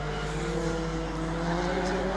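A race car at a Brands Hatch time attack session roars steadily past at high revs, its engine drone and harmonics loud and sustained throughout.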